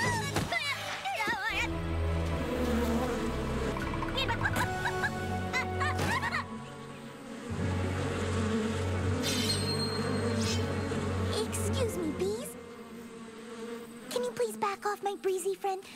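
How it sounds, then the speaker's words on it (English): Bees buzz inside a beehive in a cartoon, a busy droning hum with bright tonal flourishes and music-like swells. It continues under a moment of character talk and ends in a louder burst. "Oh, the inside of a beehive."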